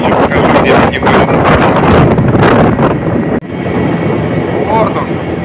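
Strong wind roars across the microphone during a river boat ride behind a Gladiator 9.9/15 outboard, loud and continuous, with one brief dip partway through.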